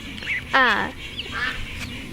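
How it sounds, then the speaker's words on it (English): Baby Australian Spotted ducklings give a few short quacking calls, one louder near call followed by fainter ones, close by against a quiet indoor background. "Dad is holding the 2 baby Australian Spotted ducks"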